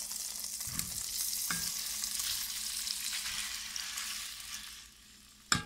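Washed meat frying in oil for pilau, a steady close sizzle with a couple of soft stirring knocks, fading slightly before a sharp clatter at the end; no voices.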